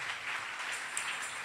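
An audience claps at a church event, a faint, even patter of many hands spread across the room, continuous for a short stretch without voices on top.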